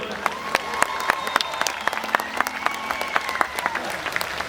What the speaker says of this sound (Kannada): ಒಂದು ಜೋರಾದ ಚಪ್ಪಾಳೆ ಥ್ರೂ ದ ಮೈಕ್